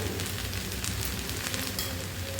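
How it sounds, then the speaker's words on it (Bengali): Pieces of Wallago (boal) fish fry in hot oil in a pan for a Bengali curry, giving a steady, dense sizzle that stays even and close throughout with no voices. "এবারে এটাকে আমি নাড়াচাড়া করে ভেজে নেব"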